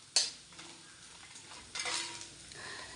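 Small shallots hit hot oil alongside browned coconut pieces, giving a sharp clatter and then a soft sizzle with intermittent stirring scrapes.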